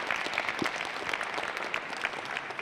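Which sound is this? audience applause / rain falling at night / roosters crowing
audience applause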